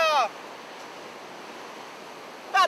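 Ocean surf off the North Carolina coast during offshore fishing, a steady broadband wash of waves held at a constant level through the clip, with short bursts of voice at the very start and the end.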